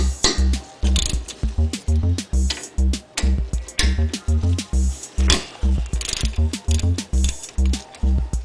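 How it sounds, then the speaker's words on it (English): A 12mm socket ratchet clicks in quick repeated bursts while loosening the brake caliper bolts on a 2003 Honda Pilot, the sharp pawl ticks close and loud with brief pauses between strokes. "take off these two bolts, which are 12mm and they hold the caliper onto the rotor"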